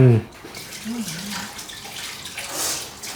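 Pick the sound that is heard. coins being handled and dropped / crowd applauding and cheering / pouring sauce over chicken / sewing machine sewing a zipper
pouring sauce over chicken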